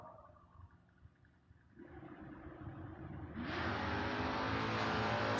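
Door-car drag racers launch hard, one pulling a huge wheel stand, their engines rising from a low rumble into a loud, sustained roar that builds and stays at full volume to the end.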